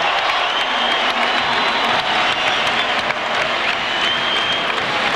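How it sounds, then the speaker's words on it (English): A packed college basketball arena in College Park roars during a Davidson timeout at an NIT second-round game, after Maryland's 20-0 run. The cheering and applause are loud, dense and unbroken throughout. "I'm not sure there's a better crowd in the NIT tournament than what's going on right now in College Park"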